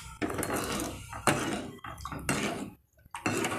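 Wheat flour and water being stirred in a vessel for halva, rhythmic scraping and wet clinking strokes in bursts with brief pauses, close and moderately loud.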